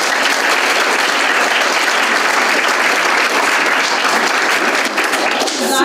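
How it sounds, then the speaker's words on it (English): A loud, dense round of audience applause for a speaker at a social-science storytelling event, steady and sustained throughout with a crowd murmur mixed in. "Please give a really warm round of applause for Rita."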